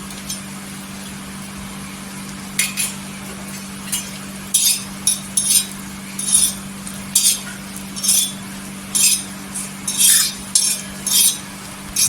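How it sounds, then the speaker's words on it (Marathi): Green chillies roasting on a tawa while being stirred, a faint background sizzle with a run of rhythmic scraping and clinking strokes from the spatula that grows busier partway through. "अजून आपण एक दोन मिनिट आहे ना तव्यावर भाजून घ्यायच्या"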